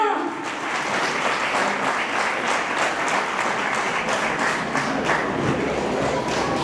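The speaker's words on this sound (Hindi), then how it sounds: "बहुत बहुत तालियां।" Audience claps at the inauguration of a yoga foundation in Badlapur, with sustained, dense applause from a crowd filling the whole stretch, loud and even, and a voice speaking over it.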